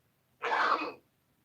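A single short, close cough or throat clear, lasting about half a second, surrounded by quiet.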